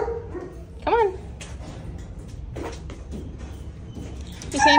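Puppies give a few yips and short barks, with whimpers and scuffling between them, fairly close in an animal shelter ward, ending in a louder yelp.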